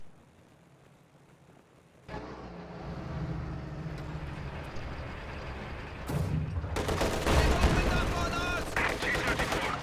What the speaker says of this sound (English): Heavy mortar continues to fire away.